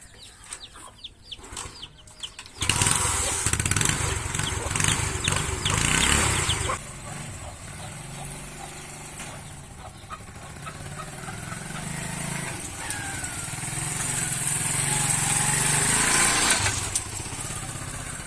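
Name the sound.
motorcycle engine running while riding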